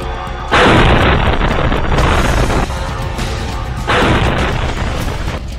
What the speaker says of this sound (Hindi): ज़ेलेंस्की का ड्रोन रूस के सारातोव शहर में पहुंचा और फिर इस रिहायशी बिल्डिंग से जा टकराया।